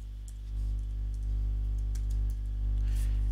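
Soft keystrokes as a password is typed on a computer keyboard, a few faint taps close by over a steady low electrical hum.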